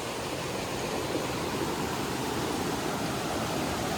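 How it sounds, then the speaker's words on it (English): A freshwater river in Dominica flows steadily, producing a loud, even rushing hiss with no pauses and no voices. "this is a fresh water source as well, you guys, so you can drink right out of this river"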